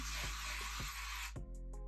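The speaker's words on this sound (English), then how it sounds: "I'm just gonna do like one last spray just on those roots there" L'Oréal Magic Retouch hair spray sprayed onto hair roots: a close, loud continuous aerosol hiss lasting over a second, cut off abruptly, followed by faint clicks.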